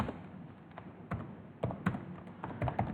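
Keystrokes on a computer keyboard while text is entered in a Linux terminal editor, heard as irregular close clicks and taps in small bursts over quiet background hiss.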